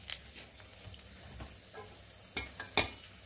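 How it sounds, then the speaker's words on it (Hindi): Broken dried red chillies frying in a little hot oil in a kadhai, a soft faint sizzle with a few sharp crackles and stirring taps. "अब हम इसमें सूखी लाल मिर्च थोड़ी सी तोड़ के डालेंगे"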